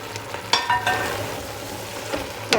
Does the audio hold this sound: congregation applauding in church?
no